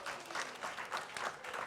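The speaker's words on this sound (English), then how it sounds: "No, you don't have to clap." Audience clapping in a hall during a Hawaiian cultural panel, a steady burst of applause for under two seconds with no voices over it.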